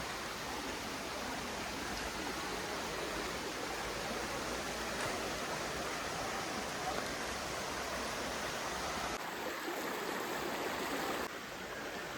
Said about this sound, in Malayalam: പുഴ ഒഴുകി വരുന്നൊരു കാഴ്ചയാണ്